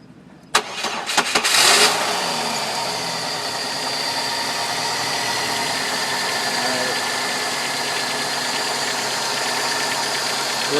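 A 2000 Chevy Cavalier with a 2.2L OHV engine cranks in a few quick chugs, catches, and settles into a steady, loud, close idle for several seconds.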